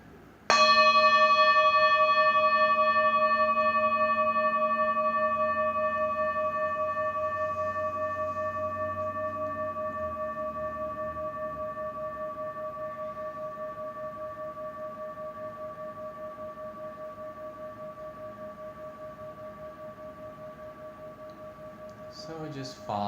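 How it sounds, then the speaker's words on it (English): A meditation bell is struck once at a morning recitation, ringing out loud and clear, then its pure tone slowly fades over about twenty seconds into near silence, alone without talk. "I'm going to sound the meditation bell"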